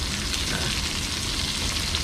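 Steady, dense sizzling of meat frying on a hot electric grill pan, loud and continuous with no pauses.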